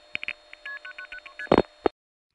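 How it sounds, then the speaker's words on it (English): Short bursts of telephone MF signaling tones pulse through a crossbar exchange, a quick series of clipped beeps followed by a couple of louder tone bursts, then sudden silence on the line. "For this reason, you can hear the MFs are only 4 digits"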